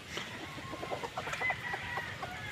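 Domestic chickens cluck in a quick, busy run of short calls, fairly close and steady over a low farmyard background, with no talk.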